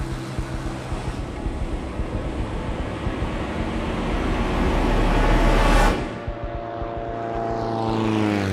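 A propeller aircraft on its approach to land drones steadily and fairly loudly, with a sharp swoop in pitch partway through before settling back into an even, tonal engine hum.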